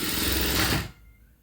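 Sewing machine stitching a sleeve hem, a steady close mechanical whir that runs evenly for most of a second before stopping abruptly, leaving near silence.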